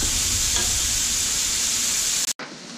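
Onions and colorful bell peppers fry and sizzle steadily in a pan, with a steady hiss and brief stirring scrapes, ending abruptly.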